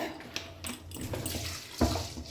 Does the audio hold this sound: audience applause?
no